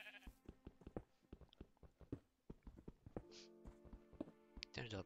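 Sheep bleating in a video game, with several short bleats over a steady run of clip-clopping hoof or footstep sounds, close and fairly busy.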